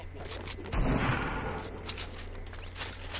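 A light machine gun firing in Fortnite: a rapid, sustained stream of gunfire with a heavier burst early on, then continuing crackling shots layered over dense game noise.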